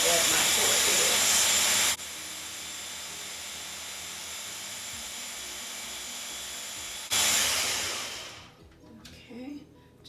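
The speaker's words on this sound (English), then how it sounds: "let me blend this up again" A blender whirs loudly through a pumpkin cheesecake mixture, drops to a quieter hum, surges again, then winds down to a stop with faint sounds afterward.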